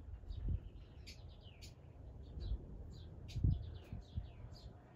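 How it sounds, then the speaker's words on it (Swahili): A pet grey parrot chirps and whistles in a string of short, bright calls at close range, with low handling noises and faint murmurs underneath. "Leo tunafundisha Kasuku wetu kuongea Kiswahili huyu."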